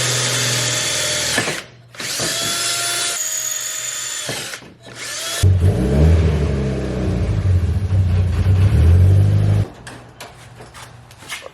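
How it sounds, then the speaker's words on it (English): A power drill whirs in several loud bursts, then a harsher grinding stretch as it bites into a square sheet metal plate, stopping and starting close by. "let's just drill these holes"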